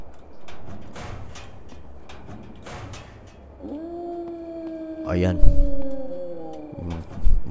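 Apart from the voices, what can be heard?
rabid dogs howling in video game HumanitZ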